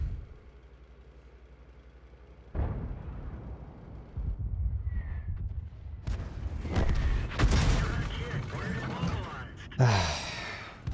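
Distant booming artillery shells land in a tank video game, with a heavy tank in the fight, arriving as several loud thuds and rumbling blasts after a quiet stretch, mixed with nearer cannon fire and game noise.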